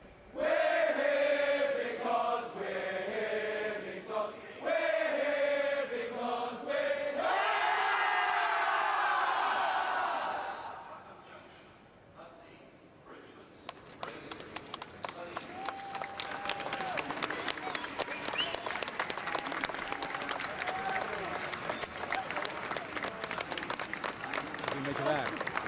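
A massed crowd gathers amid rush-hour commuters at London's Waterloo Station, with a loud, sustained roar of applause and cheering that fades out, followed by dense, crackling clapping and crowd noise filling the concourse.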